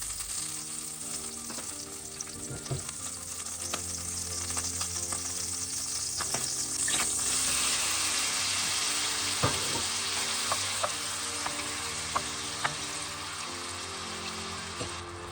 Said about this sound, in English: I prepared 2 spoons of butter and a little bit of olive oil and cooked the prawns for 2 to 3 minutes